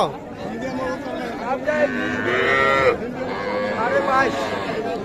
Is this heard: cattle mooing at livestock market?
yes